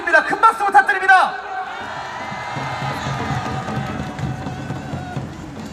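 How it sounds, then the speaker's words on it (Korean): A crowd at an indoor gathering cheers and whoops with scattered shouts, then settles into sustained clapping and murmuring, while a voice speaks over the noise at the start. "큰 박수 부탁드립니다"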